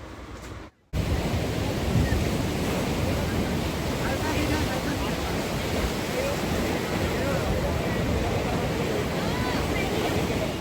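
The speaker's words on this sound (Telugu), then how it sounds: "ఇది చిన్న బీచ్ ఇది ముంబైలో." Waves washing onto a small beach in Mumbai, a steady broadband roar of surf that fills the scene continuously, loud and close, after a brief dropout near the start.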